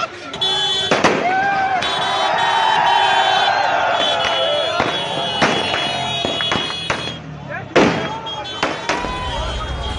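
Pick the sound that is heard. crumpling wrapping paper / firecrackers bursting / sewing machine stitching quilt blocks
firecrackers bursting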